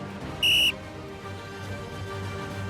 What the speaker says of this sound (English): I'm going to replace my stopwatch and blow my whistle instead